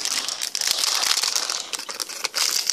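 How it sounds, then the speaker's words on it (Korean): Seven Knights trading card packs being torn open, a close, loud run of foil crinkling and ripping that carries on almost without pause. "한 개씩 그냥 뜯어보자."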